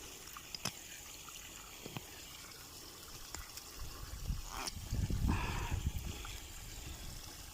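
Water is let out to irrigate a garden. It starts as faint trickling with a few scattered clicks, then swells into a low, rushing gush toward the end, fairly quiet overall.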